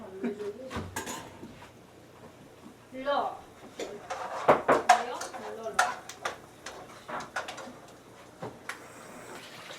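Poha is tempered with peanuts in a pan at home, with utensils scraping, clinking and stirring in uneven bursts, mid-loud and close, while voices talk over it.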